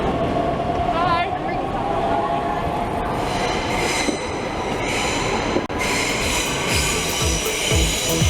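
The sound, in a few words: train arriving at Berlin Hauptbahnhof station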